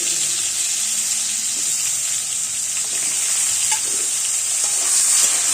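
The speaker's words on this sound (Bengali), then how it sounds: "ওই তেলের মধ্যেই দিয়ে দিলাম আলুটাকেও কিন্তু ভালো করে ভেজে নেব" Potato pieces fry in hot oil, a loud steady hiss and crackle with faint scraping and stirring under it, no talking.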